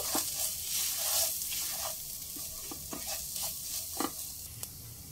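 Cumin powder, coriander powder, kasuri methi and garam masala are stirred together in a pan over a low flame, giving a soft continuous frying hiss with quiet intermittent spoon scrapes.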